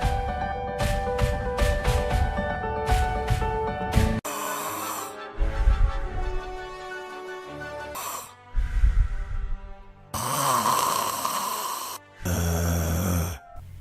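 A person snoring in a series of loud, rough snores, some long and rattling and others short and snorting, separated by brief pauses, with no voices.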